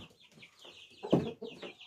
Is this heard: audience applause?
no